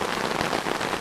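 Heavy storm rain pours at an outdoor fishing spot, a dense, loud, continuous patter drumming on surfaces nearby.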